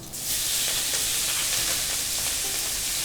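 Mustard seeds and torn curry leaves sizzle and crackle steadily in hot oil, a loud, continuous close-up hiss with scattered pops and no talking.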